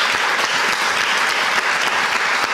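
A studio audience applauds guests on a Dutch talk show about unrest in Morocco's Rif region, loud and continuous clapping filling the whole stretch with no voices over it.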